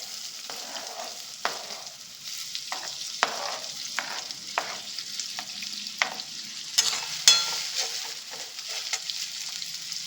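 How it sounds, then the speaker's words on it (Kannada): Onions fry in oil in a pan with a soft, continuous sizzle, broken by repeated sharp scrapes and knocks of a spoon stirring them, heard at close range with no talking. "ಈರುಳ್ಳಿ ಚೆನ್ನಾಗಿ ಫ್ರೈ ಮಾಡ್ಕೊಳ್ಳೋಣ."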